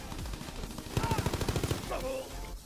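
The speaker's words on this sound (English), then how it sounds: "I hear people getting shot." Gunshots in a shooter video game: a quick run of machine-gun bursts rattling off in a steady rhythm at moderate loudness, with game noise before and after.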